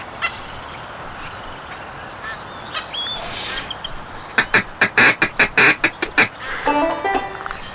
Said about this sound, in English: Why don't you help Jace out and call ducks in for him to shoot?